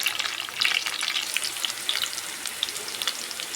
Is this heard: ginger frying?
yes